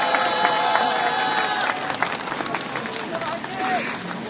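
A crowd at an outdoor Wednesday protest rally in Korea claps and cheers to welcome a singer. The applause is mixed with murmuring voices and babble, strongest at the start and then easing into a busy hubbub.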